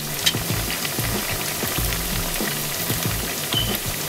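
Pork frying in oil, a dense, continuous crackling sizzle with small irregular pops and occasional soft stirring knocks, close and steady throughout with no talking.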